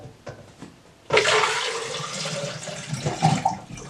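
Water pouring quickly into a container, starting after a light tap or two, then a loud, rushing gush with gurgling that rises and falls over a few seconds, close and without talk.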